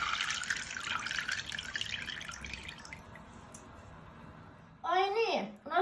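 Water runs off a sauna ladle over the stove in a washy spray that fades, then a few distinct drips and splashes land near the end.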